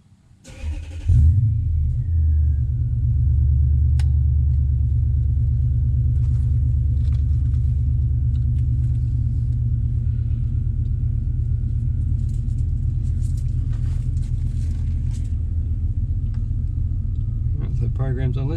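Car engine starting and then idling steadily while charging a camper trailer's lithium battery through a DC-to-DC charger, a low rumbling drone that holds for many seconds with occasional faint clicks.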